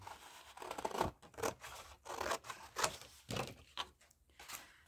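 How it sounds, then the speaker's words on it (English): Scissors roughly cutting out a piece of cardstock, with repeated crisp snips and rustling paper in an uneven rhythm of about ten strokes, close and fairly quiet. "So I'm just going to roughly cut this out, because it's easier to roughly cut it out and then cut it out nicely."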